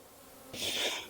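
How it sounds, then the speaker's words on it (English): Honey bees buzzing while nucs are being made, a soft, brief swell of droning that rises midway and tapers off, faint and close, with no talking. "we're gonna dump these bees in and put a lid on them"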